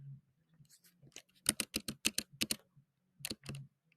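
Bursts of typing on a computer keyboard, quick clusters of key clicks with short pauses between them, close and fairly quiet, with no talking.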